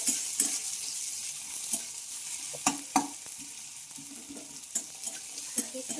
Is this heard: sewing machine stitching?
no